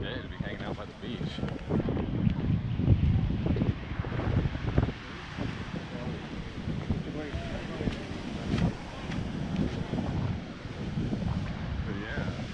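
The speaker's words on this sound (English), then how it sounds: "Big ocean out there, windy" Gusty wind roars across the microphone on a beach by a big ocean, rumbling low and uneven in strong bursts, with someone talking at times over the blustery noise.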